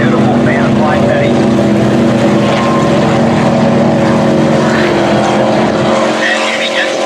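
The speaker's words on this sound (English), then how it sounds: "Spectra catamaran, twin Mercury Racing outboards." A Spectra racing catamaran powered by twin Mercury Racing outboards in a powerboat race at the Englewood Beach Waterfest, a loud continuous engine roar with a steady droning hum, while a commentator talks over it.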